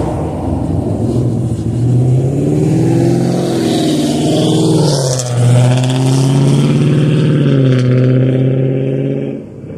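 A loud car engine revs hard and close, its pitch climbing, dipping briefly midway and rising again in a sustained roar before fading slightly at the end.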